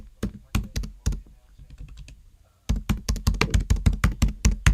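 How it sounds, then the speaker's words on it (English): Quick keystrokes on a computer keyboard, entering a search term into a patent database, a short run of taps, a brief pause, then a steady close-up burst of clicks. "Let me type in aldose reductase."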